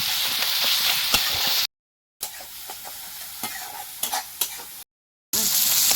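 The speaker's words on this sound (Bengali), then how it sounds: "এই দেখো ভালো করে একদম মশলা ভাজা হয়ে গেছে মশলা পুরো তেল ছেড়ে দিয়েছে" Spiced masala frying in oil for an egg and potato curry, crackling close up with the scrape and tap of a stirring spoon, the sizzle cutting out abruptly twice into dead silence before resuming.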